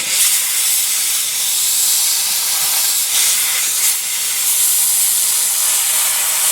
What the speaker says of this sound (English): I have the steamer.